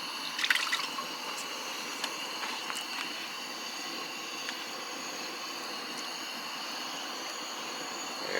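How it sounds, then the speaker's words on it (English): Water poured into a camp cooking pot for noodles over a small flame outdoors: a soft, steady trickling fill that runs unbroken, with a few faint drips at the start. "Cup and a third of water."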